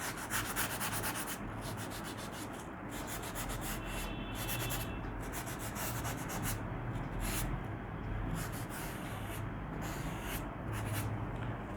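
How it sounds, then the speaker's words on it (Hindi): An eraser rubs out pencil construction lines while drawing a man's face on paper, a steady, close scratchy rubbing that runs continuously with brief pauses and no talking. "उसके बाद हम सारे कंस्ट्रक्शन लाइन को इरेज कर देंगे।"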